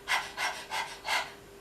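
A person imitates a dog panting during a breathing exercise, making four quick breathy huffs in an uneven rhythm, close and clear, with no other sound around them.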